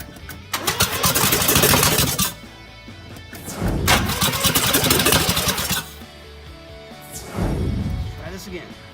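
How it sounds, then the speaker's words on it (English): Mazda RX-7 rotary engine with the thermal reactor off and no exhaust manifold cranking and firing up in loud bursts, revving briefly and dropping back, three surges in a row with people talking and exclaiming over it. "I'm gonna see if I can start it with the thermal reactor off and see what happens."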